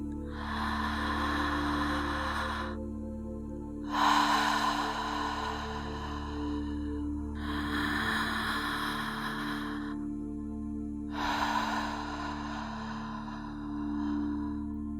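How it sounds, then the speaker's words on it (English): Slow, deliberate breaths in and out through the mouth during a guided breathwork meditation, four long airy exhales in a steady rhythm over a constant low drone of background music. "and then out through the mouth. We'll do that a few more times, just getting used to the breath."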